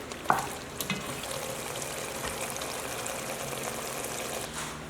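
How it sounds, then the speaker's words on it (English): Beef stew for an African-style dish simmers in oil, a steady close sizzling bubble throughout, with a faint clink of a utensil near the start and no voices. "I'm going to let it just simmer together with the oil for about 3 minutes"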